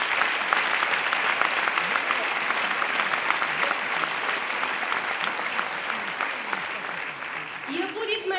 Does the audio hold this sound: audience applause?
yes